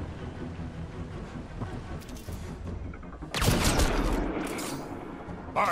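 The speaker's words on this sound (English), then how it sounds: "Hard to get a good shot in this rain." A rainstorm plays in Mass Effect Andromeda, with steady rain hiss and low rumbling that swells into a loud thunder crack partway through, then keeps rolling. No one speaks.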